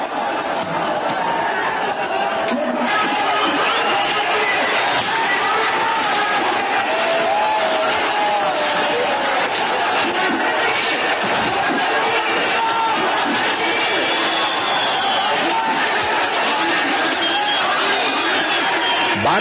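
A large, loud crowd filled with rage and frenzy, during the Ram Janmabhoomi movement, roars continuously with dense overlapping shouts, chatter and cries throughout.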